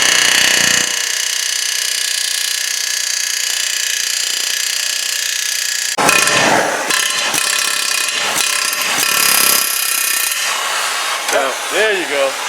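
A rapid pneumatic air hammer rattles in loud bursts against metal, knocking out a bushing sleeve on a Ford Focus rear trailing arm, starting and stopping several times, with brief clanks and squeaks between the runs.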